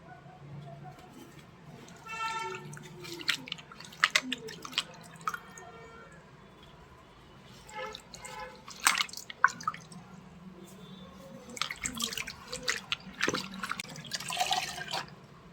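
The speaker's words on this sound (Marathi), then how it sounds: "हे तिन्ही पण फॉल मी धुवून घेते भरून पाणी घेतलंय ह्याच्यामध्ये आता हे फॉल टाकायचे" Sari falls are swished and squeezed in a tub of water, then wrung out, with intermittent splashes and drips coming in bursts.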